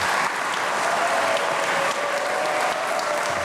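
Standing ovation from guests, family and political allies honoring a Rio de Janeiro city councilman at a ceremony: dense, steady applause filling the room throughout, close and sustained without pause.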